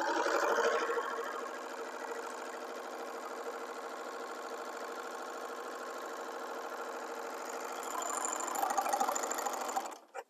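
A sewing machine stitches a center seam in fabric, running at a steady, continuous whir for about ten seconds, slightly louder at the start and again near the end before it stops.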